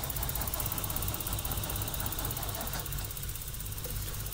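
A snowed-in car's engine turns over during a starting attempt in cold weather, a steady low rumble with faint knocking pulses continuing close by throughout.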